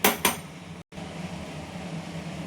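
A metal kadai is set down on a stove, two sharp clanks at the very start followed by a quiet kitchen background.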